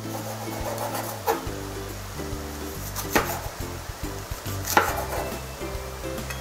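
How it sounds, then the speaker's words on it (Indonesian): Large red chilies sliced with a knife on a cutting board, giving a few sharp, close taps spaced irregularly over a steady low hum, with no one talking. "Kemudian kita bisa siapkan cabai merah besar. Ini saya akan potong."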